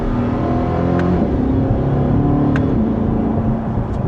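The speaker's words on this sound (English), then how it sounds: "And we're still in sport mode, second gear. Here we go. And just a mild acceleration." A 2025 Chevrolet Corvette C8 E-Ray convertible accelerating mildly in sport mode and second gear, engine note rising and falling in a steady close-up drone with a few faint clicks, no talk.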